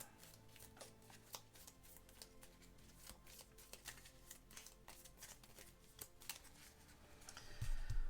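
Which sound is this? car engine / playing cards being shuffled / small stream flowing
playing cards being shuffled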